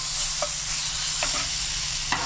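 A potato mixture with asafoetida and coriander chutney is stirred in a hot pan under a constant loud sizzle. A few spoon scrapes come through close up, and no one speaks.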